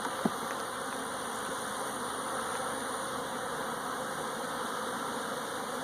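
Honey bees swarm around an open hive on a farm, their dense buzzing steady and close for the whole stretch, with no voices.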